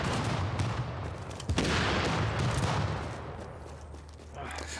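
Rapid bursts of gunfire in The Division 2 game, a dense barrage of shots with a sharp crack near the middle, fading slightly then swelling again.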